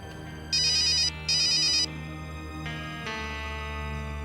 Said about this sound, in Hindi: इस वक्त किसका फोन है अंकल?